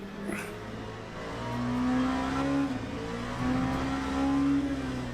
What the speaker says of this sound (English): the sound that some of the cars have with the exhaust note, engine note, backfire, misfire